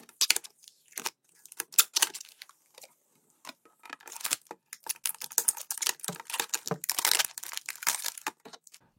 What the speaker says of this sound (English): Now the plastic peeling awesomeness is done